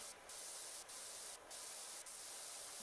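A pressure washer jet in PowerWash Simulator hisses steadily and broadly, broken by a few brief dips as the spray stutters, with nothing else heard.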